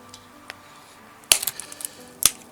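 Hackberry bonsai branches being cut during a trim: a few faint clicks, then two sharp, crisp snips about a second apart, each followed by small rustles.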